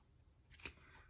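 Scissors snipping at the frayed edge of lace trim for a shabby chic paper tag, a couple of quick, faint crisp cuts in a quiet room.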